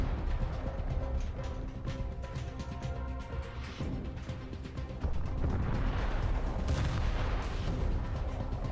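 Heavy warship guns firing shells in War Thunder naval combat, the USS Alaska CB-1 cruiser among the ships, deep booming reports under a constant rumble of engines and sea, with several louder blasts toward the end.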